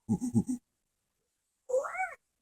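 A cat gives two short, close meows separated by about a second of silence, with no talking.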